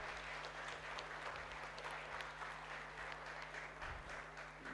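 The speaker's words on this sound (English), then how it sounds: "A big round of applause for architect Sushant Singh Verma." An audience applauds an architect at a felicitation event on parametric design, with steady, faint clapping sustained throughout under a low hum.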